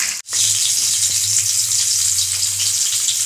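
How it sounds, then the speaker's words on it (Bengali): Cauliflower and carrot fry in oil previously used for frying fish, producing a loud, steady, close sizzle with a continuous hiss after a brief break at the start, without talk. "আমি মাছ ভাজা তেলের মধ্যে ফুলকপি আর গাজরটাকে ভেজে নিচ্ছি।"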